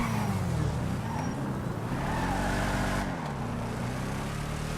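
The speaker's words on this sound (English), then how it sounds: "it sounds pretty much exactly the same as any kind of muscle car that's in this game" A Declasse Tulip muscle car engine in Grand Theft Auto 5 rumbles and revs steadily, its low throaty drone shifting pitch as it accelerates and eases off, close and continuous with no talk.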